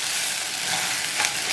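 Jagdwurst schnitzel sauce ingredients sizzling in a pan, a steady loud hiss of frying close by, with a faint stir partway through.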